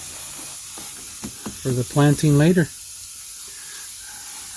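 Spray bottle misting seedlings under a dome, a steady soft hiss running under a voice throughout.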